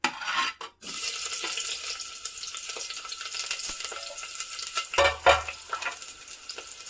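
Chopped onion frying in oil in a pan for mutton sambar, a steady close sizzle with occasional stirring scrapes and a brief clatter of utensils near the end.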